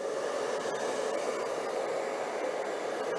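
A steady fan-driven whoosh of an electric heater on setting one, drawing 430 watts from a PowerOak EB150 portable power station, runs continuously, an even broadband hum with no talking.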